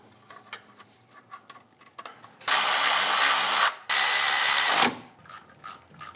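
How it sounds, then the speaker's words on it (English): Ratchet wrench tightening the AC compressor bolts on a 2004 Silverado, with rapid clicking bursts framing two long loud continuous ratcheting runs in the middle, close up with no speech. "let's go ahead and finish tightening all 4 of the bolts"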